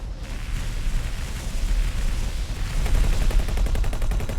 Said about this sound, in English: I can see my turrets are firing